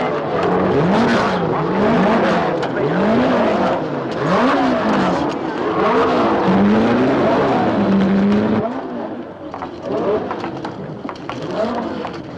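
Racing cars, a Ferrari among them, roll onto the starting grid, their engines revving in repeated rising and falling sweeps that pass close and loud for several seconds before fading into a rushing background.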